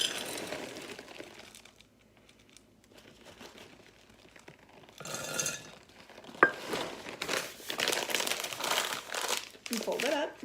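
A plastic chocolate chip bag crinkles and rustles as it is folded up, bursts of crumpling close to the microphone, growing busier toward the end, with a voice talking at times.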